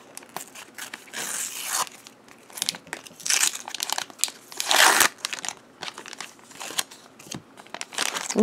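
Italian sticker packets for a Donald Duck 90th anniversary album being torn open, with close, loud bursts of crinkling and tearing wrapper plastic in uneven handfuls and no talking.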